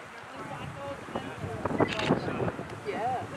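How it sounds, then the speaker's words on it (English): Wind gusts buffet the microphone outdoors at Elk Lake Lodge in Montana, a rough, rumbling roar that swells and fades unevenly, with faint voices partly audible underneath. "A beautiful windy day."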